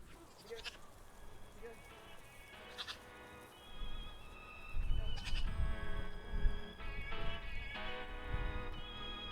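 Goats bleat several times, some close and some farther off, amid outdoor rustling and shuffling movement.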